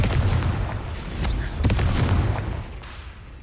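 In a Harry Potter video game, a Confringo blasting spell goes off in a rumbling burst of booms and sharp cracking pops that tail away over a few seconds.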